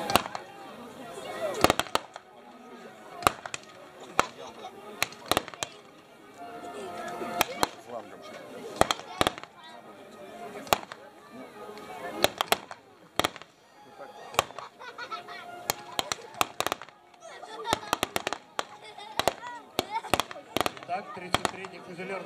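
Rifle and machine gun fire crackles through a battle reenactment of the Battle of Gumbinnen, with sharp, irregular shots and bursts near and far, under a commentator's voice.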